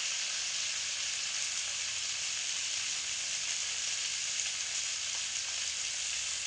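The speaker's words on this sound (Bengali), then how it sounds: "লবণ আর হলুদ দিয়ে আলুর সঙ্গে ভালো করে মিশিয়ে ভেজে নেব একটু আলু" Potatoes fry with salt and turmeric in a steady, even sizzle of hot oil, with a soft constant hiss that holds throughout without any voice.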